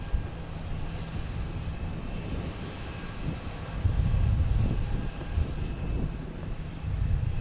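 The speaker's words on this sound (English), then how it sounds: "We have American Airlines 737 heading to Chicago." An American Airlines Boeing 737 jet at Boston Logan Airport, a steady broad engine roar heard from a distance that swells partway through.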